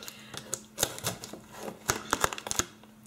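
Scissors snip and slice through Olaplex packaging in a series of sharp, crisp cuts with crinkling, arriving in irregular bursts close to the mic.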